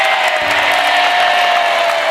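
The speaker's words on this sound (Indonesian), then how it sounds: "tepuk tangan dulu dong untuk mereka nih." Studio audience on the Family 100 game show clapping loudly and steadily, a dense, continuous wash of applause and crowd noise filling the room.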